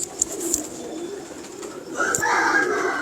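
Pigeons coo softly nearby in low repeated calls, with a few brighter chirps and some background noise that grows louder toward the end.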